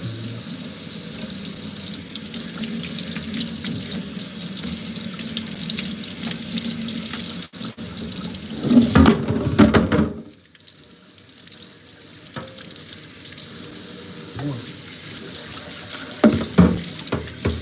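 Water runs steadily from a kitchen tap into a sink as food is rinsed, a continuous splashing hiss with a few louder clatters and bursts partway through.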